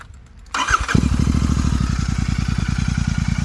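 A Royal Enfield Interceptor 650 with its stock exhaust starts up after a brief crank, then settles into a steady, even idle with a regular twin-cylinder thump, close and loud and with no voices.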